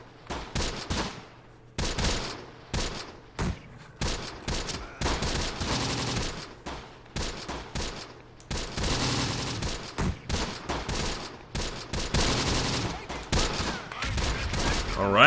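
Gunfire and mortar blasts from the Close Combat wartime strategy game, a dense run of sharp rattling bursts and heavy booms repeating for the whole stretch, loud and close with brief gaps between volleys.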